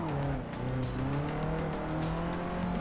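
A Nissan S13 drifts on a circuit, its engine droning loud and steady with a rising, wavering tone, near and continuous with no talk.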